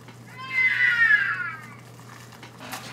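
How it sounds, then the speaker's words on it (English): An iPod text message alert chimes once, a clear tonal notification of about a second with a gliding, warbling pitch, fairly close and alone, followed by a brief faint click. "It's my iPod, I got a text."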